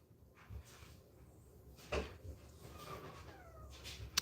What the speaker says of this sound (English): There is literally one cat with them.